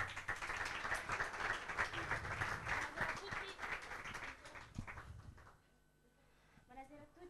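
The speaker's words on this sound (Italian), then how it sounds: "Un grosso applauso per Alessia." A crowd at a futsal event claps for a presenter being introduced, a busy spatter of applause that gradually thins out and fades, giving way to a quieter room with a voice beginning to speak.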